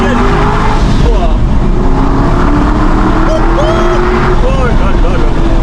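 An Aston Martin Vantage engine revs hard and accelerates during drifting, loud and continuous with rising and falling pitch as it shifts, with someone talking excitedly over it.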